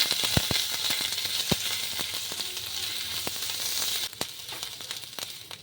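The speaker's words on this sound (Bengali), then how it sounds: "আদাটাকে একটু ভেজে নিচ্ছি" Grated ginger frying in hot oil gives a continuous crackling sizzle with scattered sharp pops and stirring clicks, fairly close and moderately quiet, with no talking.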